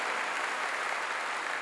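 A church congregation breaks into steady, full applause, a dense wash of many hands clapping together at even loudness for the short stretch.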